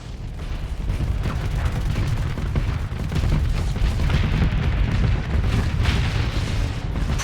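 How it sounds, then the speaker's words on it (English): Loud, continuous rumbling blasts and booming weapon fire from a space battle in the video game Starsector, dense low-end roar sustained throughout with no pauses. "I saw that explosion."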